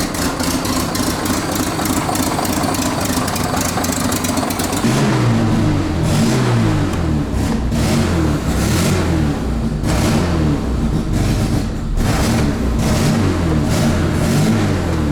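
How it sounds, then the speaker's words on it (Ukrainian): A car engine with its exhaust not yet fitted revs loudly and repeatedly, rising and falling in pitch from a rough idle, close and harsh throughout. "Не забув газ включити. оце то вона реве."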